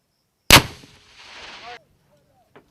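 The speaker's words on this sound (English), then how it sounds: "Frag out!" Live hand grenade detonating during Marine training, one sudden loud blast followed by a rolling rumble that fades over about a second, then quiet with a faint distant sound.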